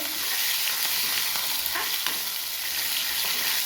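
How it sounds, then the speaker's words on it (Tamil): Cumin seeds and curry leaves sauté in hot oil, making a dense, even crackling sizzle close up with faint stirring strokes and no talk. "சீரகம் போட்டுக்கலாம். அப்புறம் கருவேப்பிலை, நல்லா வதக்கி விட்டுட்டு"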